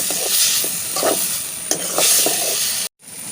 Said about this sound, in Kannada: ಕಟ್ ಮಾಡಿಟ್ಟಂಥ ಟೊಮೆಟೊವನ್ನು ಇದಕ್ಕೆ ಸೇರಿಸಿಕೊಳ್ಳುವ. ಇದನ್ನು 1 ನಿಮಿಷ ಚೆನ್ನಾಗಿ ಎಣ್ಣೆಯಲ್ಲಿ ಫ್ರೈ ಮಾಡಿಕೊಳ್ಬೇಕು.